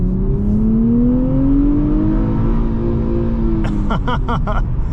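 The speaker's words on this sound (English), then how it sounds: "It's so loud that I wish we had a quieter exhaust setting in here." Loud exhaust drone from a 2023 Nissan Z with an automatic transmission on a night drive, heard from inside the cabin: a continuous heavy roar with pitch sliding slightly as engine speed changes, and brief rattling ticks near the end.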